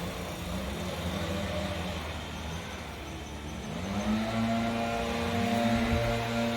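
Two leaf blowers run outside beside a small driveway, a steady droning roar with engine tones; one revs up partway through and the sound grows louder, with no talking.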